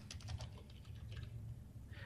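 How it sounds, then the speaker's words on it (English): Rapid typing on a computer keyboard, a close, steady patter of small clicks running continuously over a low background hum, with no voice. "I can begin typing"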